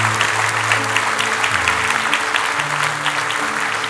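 A church congregation applauds in a steady, moderately loud round of clapping, with a low tonal hum and faint background sounds beneath it for the few seconds it lasts.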